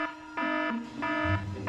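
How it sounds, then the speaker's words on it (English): A fire alarm goes off indoors, three loud repeating electronic beeps in evenly spaced bursts with short gaps between. "oh my god, it's a fire alarm"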